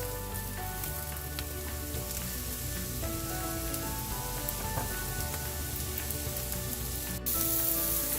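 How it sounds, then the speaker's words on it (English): Mushrooms sizzle and crackle steadily in a hot pan, a close, even frying hiss with light popping throughout and no voices. "The mushrooms are beginning to cook"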